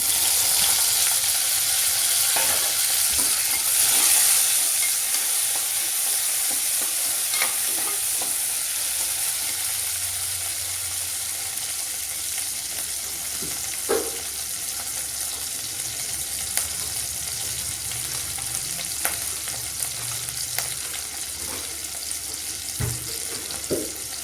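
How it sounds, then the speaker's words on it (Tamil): Onions and tomatoes sautéing in a pan give a constant close hiss of frying, with scattered light clicks and scrapes of stirring over more than twenty seconds and no talking. "வெங்காயம் நல்லா வணங்கிடுச்சு. இதில் வந்துட்டு நம்ம தக்காளியும் சேர்த்துக்கலாம்."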